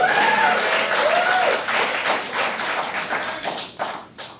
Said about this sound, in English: Let's hold our applause.